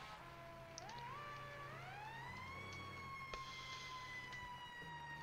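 A video game ambulance siren in GTA 5 wails steadily, its pitch sliding upward then holding, faint and constant, with a low engine hum beneath.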